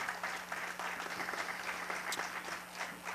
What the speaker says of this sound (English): So I think that in itself deserves a round of applause.